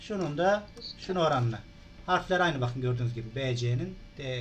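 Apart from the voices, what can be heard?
None of the usual background noises is heard.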